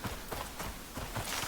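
Horse hooves clopping in the survival video game Icarus, a steady walking rhythm of repeated thuds under a busy game background, fairly close and moderately loud.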